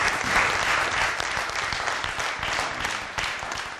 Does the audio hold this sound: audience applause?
yes